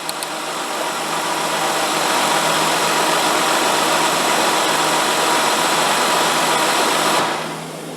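A car engine idles steadily and loudly under the hood during an ignition spark test, holding a constant rumbling drone for several seconds before the sound drops off near the end.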